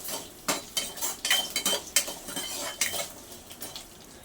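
Peanuts roasting in a pan, stirred with a metal spoon: a quiet, light sizzle under a quick series of clinks and scrapes against the pan, no voices.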